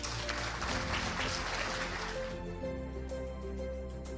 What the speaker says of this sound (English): I want you all to give yourselves a round of applause, please.